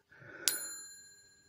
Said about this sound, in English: You're going to hear a ding.